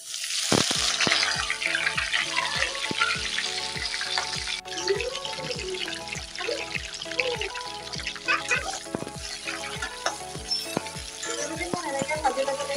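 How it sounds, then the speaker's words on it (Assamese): Jackfruit pieces frying in hot mustard oil in a wok over a medium flame, a steady close sizzle with repeated scraping stirs in a regular rhythm throughout. "তেলখিনি গৰম হোৱাৰ পিছত মই ইয়াতে কঁঠালখিনি দি দিছোঁ।"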